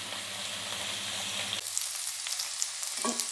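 Dried red chillies sauté in oil for a thattaikkaai sukka varuval, a steady close sizzle that drops back partway through, followed by light scraping and crackle near the end.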